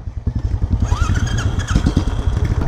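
Motorcycle ridden along a hot mountain road toward Beni on a Mustang trip, its engine chugging steadily up close with wind rush and a brief rising whine, no talk over it.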